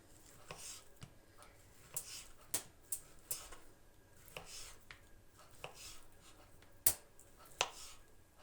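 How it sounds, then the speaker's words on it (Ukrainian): Boiled sausage is chopped into strips on a board, a series of sharp knife knocks in an uneven rhythm, close and fairly quiet, with no one speaking. "Ковбаску теж буду нарізати на такі полоски."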